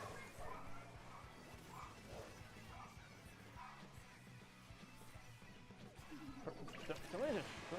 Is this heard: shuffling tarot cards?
no